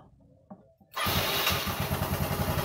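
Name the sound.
motorcycle engine starting with electric starter on two batteries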